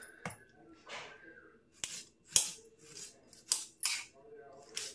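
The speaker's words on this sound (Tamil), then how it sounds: "தக்காளி கட் பண்ணிக்கலாம்." Tomatoes cut for tomato pickle, heard as a series of sharp, close knife strikes with short soft slicing sounds between them, spaced irregularly over a few seconds.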